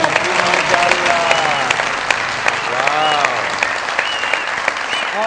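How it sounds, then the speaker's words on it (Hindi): Enthusiastic applause from a TV comedy show studio audience, steady clapping sustained throughout with a few cheers mixed in. "बहुत सारी तालियां।"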